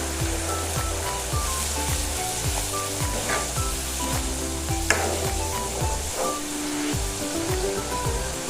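Food sizzles and bubbles in a pan, a constant loud crackle with occasional pops and the clink of a utensil stirring.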